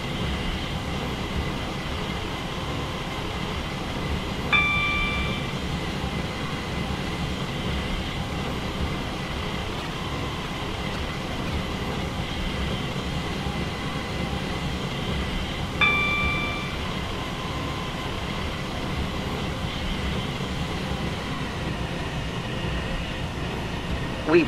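A Class 802 train in the Roblox game Stepford County Railway runs with a steady broadband rumble throughout, and two brief beeping tones sound about ten seconds apart.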